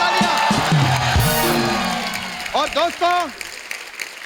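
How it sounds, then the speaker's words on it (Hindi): Studio audience at a comedy talk show cheering and applauding, a loud burst of clapping and whoops under a voice, followed by shouting cheers that fade. "जोरदार तालियां."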